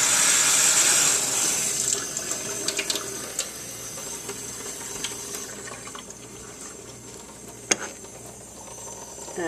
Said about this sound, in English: I let the water run